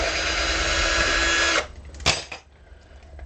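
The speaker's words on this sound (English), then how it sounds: "We'll see if my drill will fit down in here." A power drill runs steadily for about a second and a half while removing the claw from a Stratocaster electric guitar, then stops, followed by a short clunk and faint handling noise.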